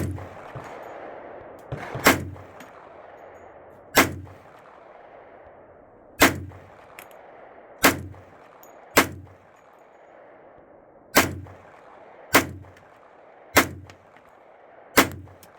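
Rifle shots from a CMMG 10mm Banshee firing 200 grain hard cast rounds crack out at irregular intervals, about nine sharp loud reports with ringing tails as they strike steel targets outdoors.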